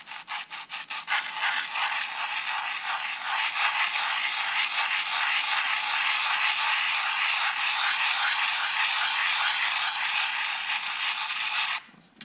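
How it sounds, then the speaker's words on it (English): A milled circuit board is rubbed flat against sandpaper, a close, loud, continuous gritty scraping that starts in short rhythmic strokes, then runs steadily for about ten seconds before stopping. "I'm going to try to be holding it flat and just rubbing the protruding pointy bits against the sandpaper."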